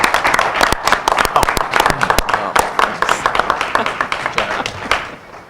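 People at a board of education meeting give a round of applause to the board members. The clapping is close and fairly loud, with sharp individual claps standing out in an irregular patter.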